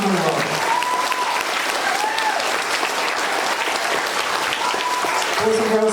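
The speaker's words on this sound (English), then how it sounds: "let's give a big round of applause for these students on the A honor roll" A school audience at an awards event claps loudly and continuously for A honor roll students, a dense close applause with a few voices and cheers mixed in.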